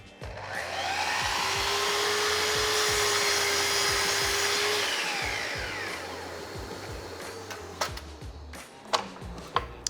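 A power saw cuts through a wood cabinet panel clamped in place, a loud steady whine for several seconds that fades as it spins down, followed by a few sharp knocks.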